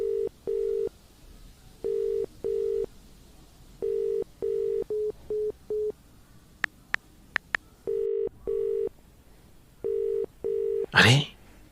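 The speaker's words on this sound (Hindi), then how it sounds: "इंस्पेक्टर साहब को कॉल करता हूँ." A telephone call is placed: a string of paired ringback tones pulses in regular bursts, interrupted by a few quick dialing beeps, then the ringing resumes before a brief voice at the end.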